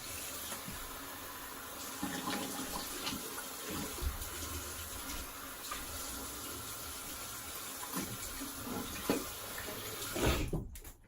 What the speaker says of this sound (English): I'm just gonna rinse.